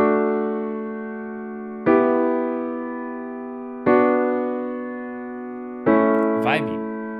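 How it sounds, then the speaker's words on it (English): A simple grand piano melody from a BandLab virtual instrument sounds as four sustained chords struck about two seconds apart, each ringing out and fading. A brief voice cuts in near the end. "So I quickly made my piano melody and it sounds like this."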